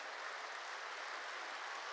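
A church congregation at a New Year's Eve service applauds, a faint, steady hiss of many hands clapping that stays even from start to finish with no voices above it.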